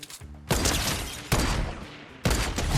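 A Tommy gun fires in the Fortnite video game in three sustained bursts of rapid automatic fire, loud and close, with brief pauses between them and no voices.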